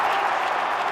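A stadium crowd at a London 2012 rowing event bursts into steady applause and cheering, dense and sustained throughout.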